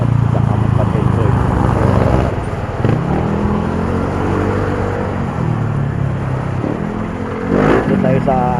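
A motorcycle being ridden to a wash shop runs steadily close up, its engine droning and shifting slightly as it changes speed, with brief talk over it.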